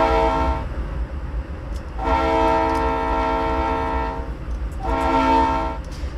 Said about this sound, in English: Yes, choo-choo train.